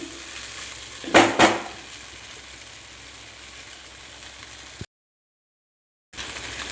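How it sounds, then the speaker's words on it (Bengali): Chicken pasta with pasta spice stirred in a frying pan, a steady soft sizzle with two brief louder scraping strokes near the start, then a moment of silence before the frying resumes. "পাস্তার মশলাটা দিয়ে দেবো। একটু নাড়াচাড়া করে নিচ্ছি।"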